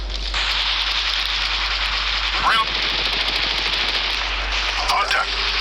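Rapid automatic gunfire from the mobile battle royale game Apex Legends Mobile, with steady crackling bursts running almost continuously over a low hum, broken by a couple of short sharper game sound effects.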